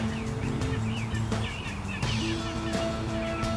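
A wild turkey gobbles in an open field during a spring hunt, a rough rattling call rising over steady outdoor background noise, with no talk.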